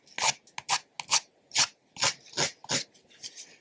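A nail file smoothing the edge of a semi-cured gel nail sticker, close and crisp rasping in about ten short strokes, evenly paced and moving in one direction.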